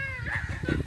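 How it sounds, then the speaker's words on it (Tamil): Short, nearby clucking calls from a rooster and hen outside a village house, a few quick harsh notes in under a second with no talk over them. "இப்ப இந்த கோழியோட ஆள் தான் கத்துது"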